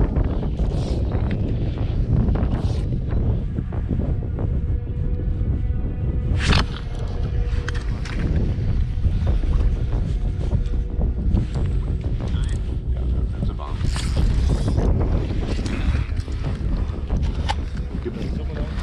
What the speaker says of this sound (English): the wind's picking up, so hopefully it'll hide some of our noise